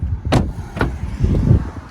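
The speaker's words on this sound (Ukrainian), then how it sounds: "Двері відчиняються під прямим кутом." Door of a 2021 Smart Forfour 453 EQ Cabrio being opened, with two sharp latch clicks and a soft thud of the door swinging, heard close up in a quiet setting.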